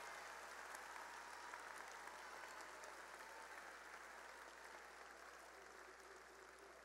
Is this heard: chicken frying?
no